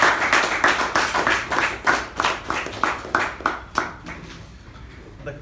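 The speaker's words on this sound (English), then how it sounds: "Please help me welcome the winner of Division C contest, Toastmaster Balaji AS, with a huge round of applause." A room of Toastmasters meeting attendees claps for the Division C contest winner, the distinct hand claps loud at first and then thinning and fading toward the end.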